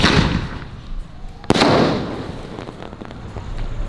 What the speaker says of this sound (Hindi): स्टार्टिंग अभी हो रही है स्काई शॉट से